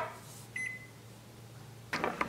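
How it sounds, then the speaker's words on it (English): A 600-watt microwave oven heats shiratamako mochi dough tinted with beet juice, giving a low, steady hum with a brief electronic beep early on and a short clatter near the end. "Going into the microwave, 600 watts"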